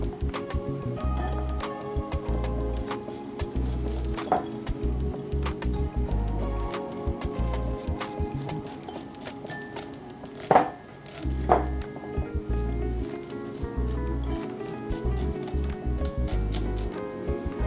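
A knife slices corn kernels off the cob into a bowl in a kitchen, giving repeated rhythmic scraping, chopping strokes close by, with a couple of sharper knocks partway through and no talking.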